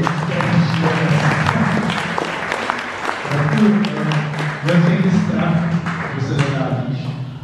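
Audience applause rising at a live broadcast honoring a Czech mountaineer, a dense patter of clapping hands running throughout with voices speaking over it.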